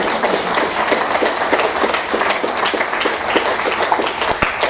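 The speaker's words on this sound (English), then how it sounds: "Pause for applause." A scattering of clapping hands at a conference plenary session, uneven and fairly close, with sharp individual claps standing out over a continuous rustling background.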